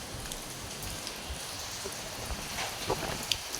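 Rain falls steadily outside a guitar storage shed in Soi Khao Talo, an even close hiss of drops with a few sharper splashes and taps toward the end, no speech.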